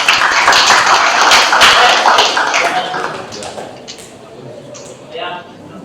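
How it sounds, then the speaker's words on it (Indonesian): A class at a vocational high school for electrical engineering claps for classmates with a burst of brisk, close hand claps that fade after a few seconds as the room quiets, with voices nearby. "Berikan tepuk tangan untuk teman-teman."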